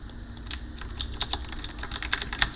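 Rapid, uneven typing on a computer keyboard during an online board-game tournament match, a steady patter of close, light key clicks with no talk over it.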